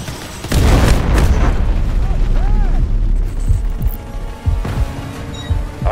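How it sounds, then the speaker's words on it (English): Cruise missile strikes in the tactical shooter game Delta Force land as loud, deep booming explosions with rumbling tails, followed by scattered smaller bursts and pops of battlefield fire. "Cruise missiles inbound."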